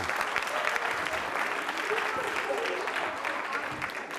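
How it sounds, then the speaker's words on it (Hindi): Sustained applause from a university audience at a Holi-themed quiz show, steady and moderately loud throughout, with some voices or cheering mixed in. "तालियां जोरों से बजाइए आप सभी के लिए"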